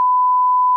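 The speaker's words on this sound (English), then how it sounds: "insert the beep" A single steady censor bleep, loud and unbroken for just under a second, blotting out a spoken word.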